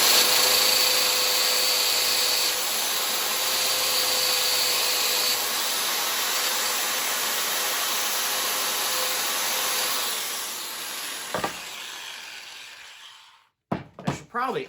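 A motor-driven buffing wheel spins with compound against an aluminum SCCY CPX-2 pistol slide, giving a steady loud whirring drone that winds down and stops near the end, followed by brief talk.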